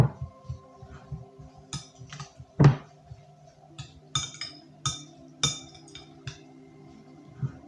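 A spoon stirs goulash in a pot, giving faint, scattered metallic clinks and taps at irregular intervals against a quiet background.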